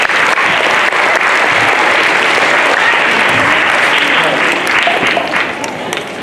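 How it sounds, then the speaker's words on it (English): An audience at a science talk breaks into loud, dense applause that holds steady for several seconds before thinning out toward the end, with some crowd voices mixed in. "Give him a round of applause because that one's a bit hairy."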